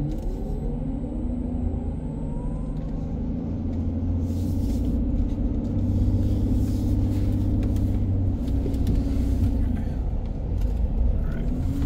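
A Vtrux tows a Coda along a highway, giving a steady, continuous low road rumble and engine drone that holds level throughout, with faint wind noise above.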